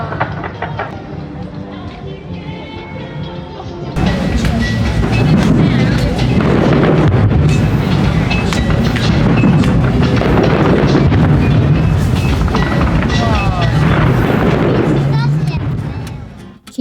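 Fireworks over Paris at night, a dense, loud wash of booms and crackles mixed with crowd noise and voices that swells in after a quieter opening and continues steadily.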